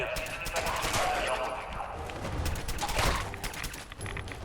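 Gunfire in the Fallout 4 video game, a continuous, moderately quiet stream of rapid shots and clatter with bursts of fire, heard beneath faint game background noise.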